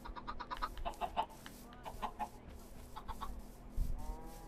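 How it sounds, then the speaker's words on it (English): Minecraft chickens cluck and chatter in short, repeated bursts, faint and slightly tinny, over a low steady hum. "Chickens! Chickens!"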